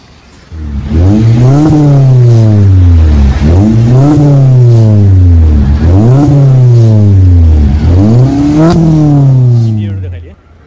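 A modified Suzuki Baleno with a Borla Spitfire exhaust and remapped ECU revs hard four times in a row, each rise and fall loud and close, with the engine settling to idle at the end.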